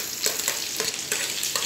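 Onions sizzle and crackle in a hot pan alongside browning luncheon meat, a close, continuous hiss broken by rhythmic stirring scrapes about every third of a second.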